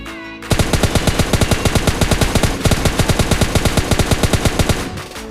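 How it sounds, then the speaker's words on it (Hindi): Rapid automatic fire from an M416 rifle in PUBG Mobile Lite, a loud, evenly spaced stream of sharp shots rattling for about five seconds with only a tiny break midway. "और आपको अब देखने को मिले M416 वर्सेस S12 के।"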